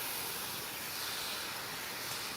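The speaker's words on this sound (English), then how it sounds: "I'm going to take the other half of my tangerine and I'm going to squeeze it over there." Tangerine juice hits caramelized banana in a hot pan and sets off a steady, hissing sizzle that fills the whole moment at moderate loudness, with no voices over it.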